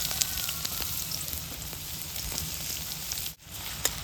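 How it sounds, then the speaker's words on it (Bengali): Chopped onion sizzling and frying in hot oil in a pan, a steady crackling hiss running throughout with a brief dip near the end, with no voices. "গরম তেলের মধ্যে দিয়ে দেব এখানে যে একটা পেঁয়াজ কুচি কুচি করে রেখেছিলাম"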